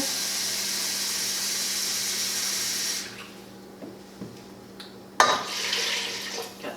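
Broth pours steadily from a pot or container while cooking asparagus, a continuous watery rush that stops after about three seconds, followed by a few light clinks and a brief splash of more liquid.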